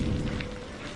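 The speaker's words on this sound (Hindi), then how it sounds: "बारिश की लगातार ध्वनि" Steady rain falls on a stormy night, a dense, even hiss of drops spattering close by without pause and with no voices.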